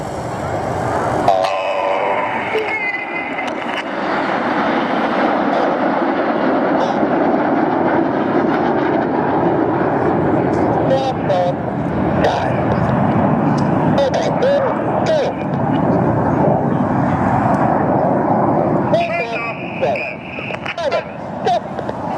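An aerobatic jet team flies in formation past an airshow crowd, a loud, steady roar of jet engines holding for about twenty seconds, with a commentator speaking over it throughout.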